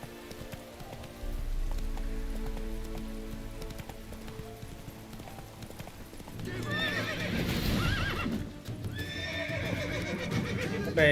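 Roach the horse gallops in The Witcher 3, her hooves clip-clopping steadily under a rain-like patter, with loud, close whinnying and snorting breaking in midway.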